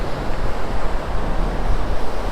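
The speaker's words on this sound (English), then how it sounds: "as you can see, the waves are rolling in nicely" Ocean waves from a south swell rolling in near Diamond Head, Hawaii, a loud steady surf wash mixed with gusting wind buffeting the microphone, continuous with no voices.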